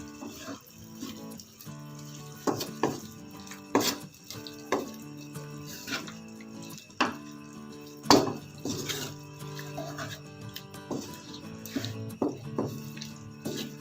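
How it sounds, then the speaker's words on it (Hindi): Spices are stirred into chicken in a cooking pot with a spoon, giving soft, irregular metallic clinks and scrapes, close and quiet, over a faint wet background. "इकट्ठे करके ये डाल दिए, को अच्छी तरह मिक्स करना है।"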